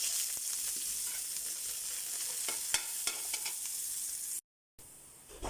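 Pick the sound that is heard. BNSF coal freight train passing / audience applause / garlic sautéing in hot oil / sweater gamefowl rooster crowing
garlic sautéing in hot oil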